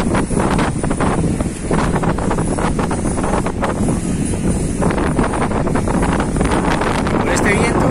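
Strong wind buffets the microphone in a steady, loud, rushing roar with gusty bursts, outdoors near a boat on the water, while people talk faintly underneath.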